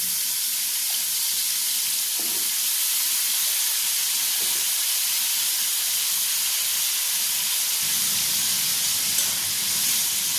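Potatoes dropped into a hot pan of oil, a loud continuous sizzle and hiss that stays steady throughout, close up with no voices.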